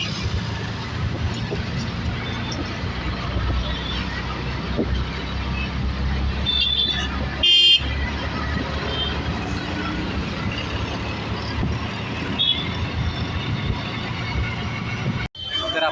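Shared auto rickshaw ride through Mumbai street traffic toward Andheri station: a constant engine drone and road rumble, a short horn-like blare midway and surrounding traffic noise, with faint voices underneath.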